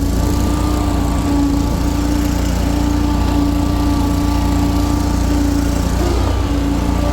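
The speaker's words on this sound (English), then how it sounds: "Very quick, great running, strong mower all the way around." An Exmark Lazer Z 52-inch commercial-grade zero-turn riding lawn mower runs steadily, its loud, constant engine drone continuing without a break.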